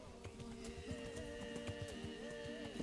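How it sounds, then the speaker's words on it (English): Horse galloping in the open wilderness of the video game Kingdom Come: Deliverance, rapid hoof thuds repeating steadily under a sustained tonal game soundtrack, with a brief whinny-like sound. "I've been sprinting with the horse, full gallop"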